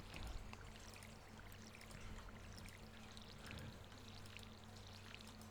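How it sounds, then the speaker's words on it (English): Watering crops with a watering can in the Stardew Valley video game, a steady pouring, splashing stream of water that runs continuously at moderate loudness over faint low background music. "let's water this up"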